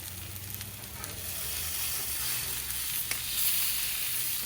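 Steaks searing on a Blackstone flat-top griddle outdoors in the snow, giving a steady, close sizzling hiss that holds through the whole stretch with no talk over it.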